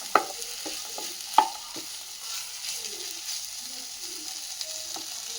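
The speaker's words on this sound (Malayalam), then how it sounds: "ഇതുകൂടി ഇതിൽ ചേർത്ത് ഇളക്കി കൊടുക്കാം." Chopped tomato and green peas frying in a pan for tomato rice, with a soft continuous sizzle and a couple of sharp spoon scrapes and knocks as they are stirred, close and without talk.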